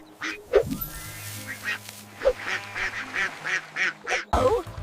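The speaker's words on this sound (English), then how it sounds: "Quack, quack, quack." Nasal, honking duck quacks pop up a few times over a cheerful children's song, moderately loud and mixed with the music and singing.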